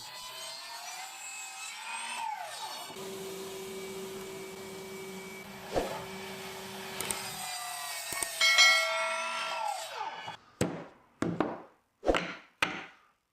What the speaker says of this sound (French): je coupe de longueur à la scie à onglet